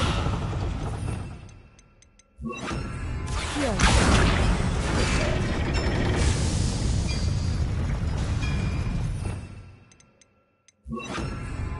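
A Confringo blasting spell bursts in Hogwarts Legacy, a loud sustained roar of blast and crackling debris lasting several seconds, set between quieter stretches of game ambience.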